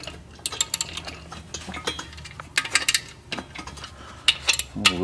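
A ratchet loosens the main bearing caps on an engine with bursts of sharp, close metallic clicks and clanks in an irregular rhythm, followed by a short low knock at the end.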